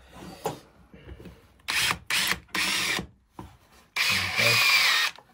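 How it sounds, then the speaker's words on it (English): A power drill with a long bit bores through wood in a woodturning shop, running in several loud bursts of a few tenths of a second to over a second, with brief pauses and a longer final run. "Oh, I haven't got the long enough drill bit"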